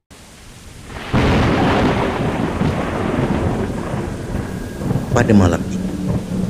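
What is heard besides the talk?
light rain falling outside at night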